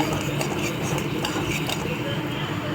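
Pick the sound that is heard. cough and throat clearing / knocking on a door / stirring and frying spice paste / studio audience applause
stirring and frying spice paste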